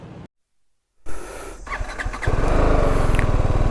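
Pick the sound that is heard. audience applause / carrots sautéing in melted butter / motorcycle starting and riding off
motorcycle starting and riding off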